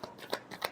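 Tarot cards shuffled in a few quick riffling bursts, two sharper snaps standing out, close and fairly quiet with no talking.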